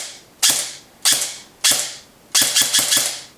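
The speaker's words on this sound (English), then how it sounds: "Now let's just do a quick test shoot to make sure everything works properly." An airsoft SR25 rifle test-fires close by, three single sharp shots with a mechanical clack, then a quick burst of four rapid shots.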